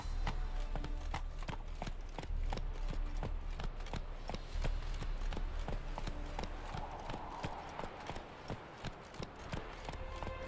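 Hooves of a galloping horse in The Witcher video game pound in a steady, fast clip-clop rhythm close by across the whole stretch, over a constant low rumble of game ambience, with no talking.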